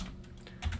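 Light typing on a computer keyboard entering a network command, soft scattered keystrokes with a slightly louder cluster at the end, close and without talk.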